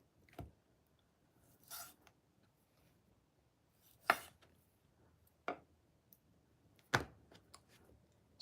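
A knife cuts into a dry-aged steak, with sharp, quiet slicing strokes at irregular intervals, crisp clicks and scrapes against a near-silent background.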